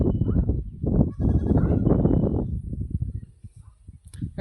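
A goat bleats loudly and close by, a wavering cry lasting about two seconds, followed by softer trailing bleats and rustling around a village yard where calves and goats roam loose.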